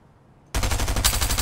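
Automatic gunfire in Fortnite Chapter 3 arena play on PC breaks out after a short silence as a loud, rapid burst of shots that keeps going to the end.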